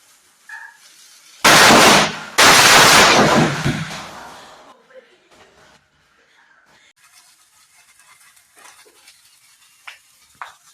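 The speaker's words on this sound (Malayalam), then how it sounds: "പടഹധ്വനി, അതായത് പടക്കം" Two loud firecracker bursts go off close together during Vishu celebrations, each with a crackling tail, followed by quiet with faint scattered background noises.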